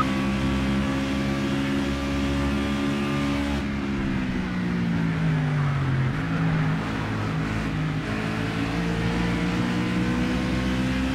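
A stock car engine in the Project CARS racing game on the Willow Springs circuit drones steadily and loudly, its pitch sliding down under braking, then climbing again as the car accelerates.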